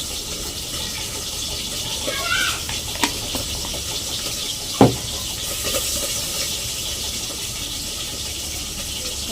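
Water is poured over spices to grind into a paste for a Bengali pabda fish jhal, giving a steady, hissing pour with a few faint clinks, close and continuous.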